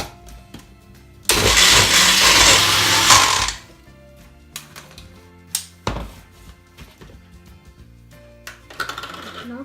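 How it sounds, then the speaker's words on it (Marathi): An electric mixer grinds a wet masala paste for Malvani prawn curry, roaring loudly for about two seconds before stopping, followed by several short pulses and clattering knocks of the jar. "आपण आता आपलं वाटण चांगलं वाटून घेऊया।"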